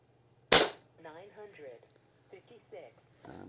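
An Umarex Gauntlet 2 air rifle fires a single 25 grain pellet with one sharp, loud crack, followed by a person talking and a faint thump near the end.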